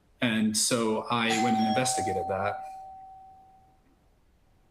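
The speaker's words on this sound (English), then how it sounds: "You'll have to excuse the doorbell, I'm sorry." A doorbell chimes once in a home while someone talks over it, its single sustained tone ringing on and slowly fading after the speech stops.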